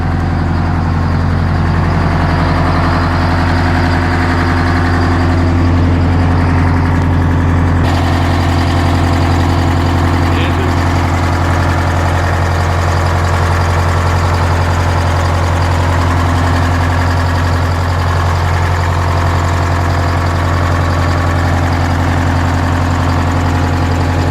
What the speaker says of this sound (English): Let's walk back here and hear this engine.